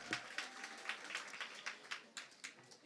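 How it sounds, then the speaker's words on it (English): Audience applause at a women's banking launch event after a performance, a modest, somewhat faint round of scattered clapping with irregular bursts, a little voice mixed in. "give her one more round of applause?"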